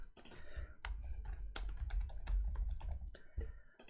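Close typing on a computer keyboard while filling in details for a Shopify store, with quick irregular clusters of light key clicks and brief pauses, soft and alone.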